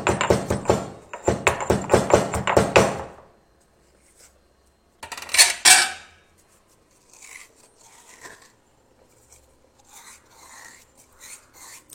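Peppercorns, cumin seeds and rock salt, crushed by hand, tumble into a pot of spinach soup in a burst of dense, rattling clatter, then a softer rustling scatter follows alongside faint scraping and taps.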